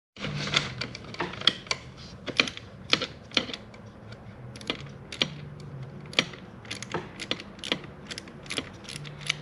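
A hand wrench clicks as it works a bolt loose from the driver seat of a 1996 Impala SS, with quick ratcheting bursts and small metallic taps, close and fairly quiet, no one speaking.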